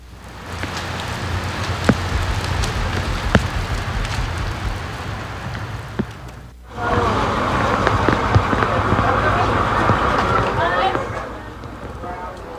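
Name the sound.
heavy rain pouring in Belmopan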